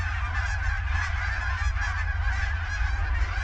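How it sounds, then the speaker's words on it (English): A large flock of geese honking continuously, a dense overlapping chorus of calls at moderate distance, steady throughout with no talk. "listen to all those geese"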